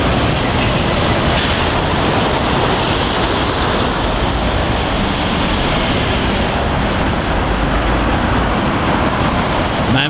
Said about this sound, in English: Freight, another tidy wagon, always very smart fleet.